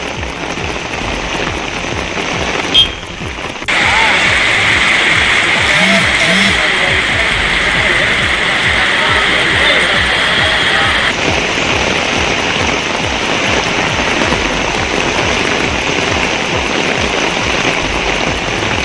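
Heavy rain pours down in Bengaluru, a loud dense hiss of drops on surfaces that drops out briefly near the start, then holds steady and close for the rest of the stretch.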